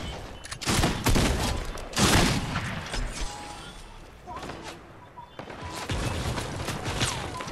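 Rapid gunfire bursts in a Fortnite squads match, loud and close, with repeated volleys and short pauses between them, mixed with game effects.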